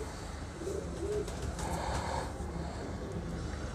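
A breeder pair of pigeons cooing softly nearby, a few low throaty coos rising and falling over steady background hiss and wind on the microphone.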